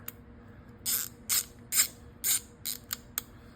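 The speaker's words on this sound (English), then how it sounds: "We'll start with the ratcheting screwdriver." Ratcheting screwdriver from an Ironton 49-piece set, its ratchet giving about seven short bright clicks in an uneven rhythm over roughly three seconds, close and moderately loud over a quiet background.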